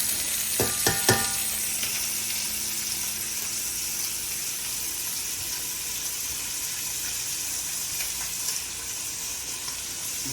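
Short ribs sear in a hot pan, a continuous bright sizzle and crackle running steadily throughout, with a few sharp clatters near the start.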